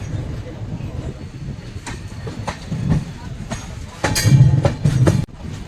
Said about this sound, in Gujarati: આપણી ટ્રેન ઊભી હતી પણ હવે નીકળી ગઈ છે વઢવાણથી